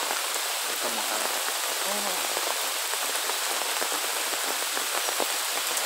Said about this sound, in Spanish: Ya parece tantito la lluvia, va a cambiar todo.